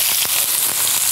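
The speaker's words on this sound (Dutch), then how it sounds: "En die laat ik lekker bakken." Courgette cubes fry in a pan with a steady, bright sizzle and a few small pops and crackles, close and continuous for about a second, with no voice.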